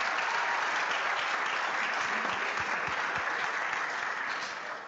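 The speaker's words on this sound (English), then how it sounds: "Please give a round of applause for Mr." Audience at a Pro Football Hall of Fame and Cleveland Browns Black History Month program applauding steadily, a dense, even patter of many hands that holds at moderate level and tapers slightly at the end.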